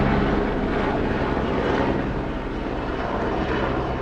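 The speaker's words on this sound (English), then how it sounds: "Here comes a helicopter, everybody." Helicopter passing overhead during an outdoor yoga flow session, a loud, steady rotor and engine roar that fills the background continuously and eases only slightly toward the end, with no voices.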